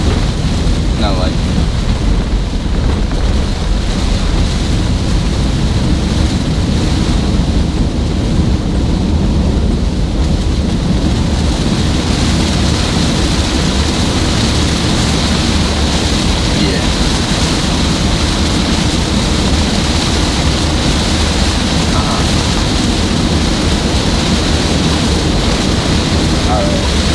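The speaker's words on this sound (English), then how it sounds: "But it's raining right now." Heavy rain pours steadily with no break, a dense unbroken roar that may carry low rumbles of thunder, while wind buffets the microphone now and then.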